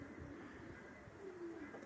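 Racing pigeons coo softly and continuously, a low murmuring coo close by with no other sounds.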